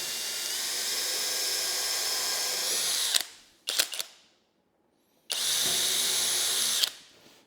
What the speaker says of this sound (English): always pre-drill on something like this. You will split that wood out fast.